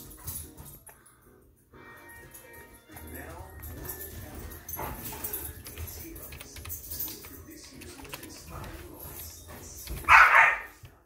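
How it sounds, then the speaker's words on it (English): Dogs bark in a short loud burst near the end, over background game sounds and a person talking through most of the clip. "Sorry, my dogs are barking."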